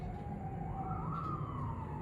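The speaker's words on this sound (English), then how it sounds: "I'm hearing sirens." A siren wails in the distance, its pitch rising and sliding back down in a steady tone beneath a low constant background rumble.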